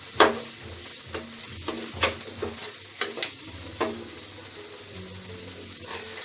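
Onion, green chili and curry leaves sautéing in a pan for horse gram soup, with a soft steady sizzle broken by repeated clinks and scrapes of a stirring spoon, fairly close and with no talk.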